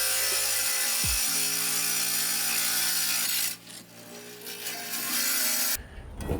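A cheap 7-inch tile saw cuts through a tile, giving a steady, loud grinding whine that drops in level partway through and then surges again near the end.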